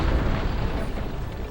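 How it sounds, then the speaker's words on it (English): Explosions from the Western action video game GUN, a dense, continuous roaring rumble with crackling debris that stays loud and steady throughout, with no talking. "explosions in general produce very satisfying results"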